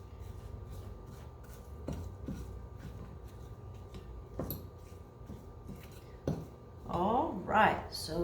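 Utensil scraping cooked pasta out into a bowl, a few sparse scrapes and clinks of metal against dishware, ending in a louder burst of scraping and clatter.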